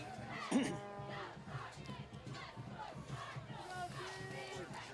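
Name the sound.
cheerleaders and crowd cheering at high school football game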